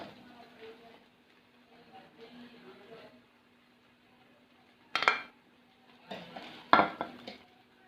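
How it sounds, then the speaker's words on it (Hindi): Hyderabadi beef biryani is dished out into a serving dish, with a few sharp metal spoon clinks and scrapes against the dish standing out over a quiet background and a faint voice. "अब हम इसे डिश में निकाल लेते हैं।"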